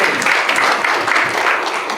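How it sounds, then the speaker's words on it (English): Loud, steady applause from a crowd at a Rotary club meeting, dense overlapping claps rising and falling slightly in waves throughout. "round of applause"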